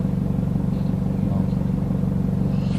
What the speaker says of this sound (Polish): jakaś Białoruś tir jedzie